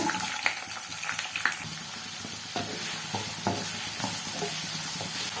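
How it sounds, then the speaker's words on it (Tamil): Steady sizzling of chopped onions frying in a pan until golden, with occasional scraping clicks of a spatula stirring; close and fairly loud, no voices. "வெங்காயம் நல்லா பொன்னிறமாக வர வரைக்கும் வதக்கி எடுத்துக்கோங்க"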